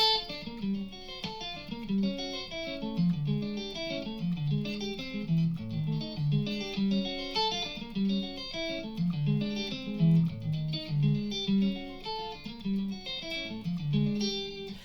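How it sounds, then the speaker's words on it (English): An electric guitar plays an alternate-picking exercise, a steady stream of evenly picked single notes crossing strings in a repeating pattern, clean and moderately quiet, with no voices. "alternate picking exercise where you're crossing strings"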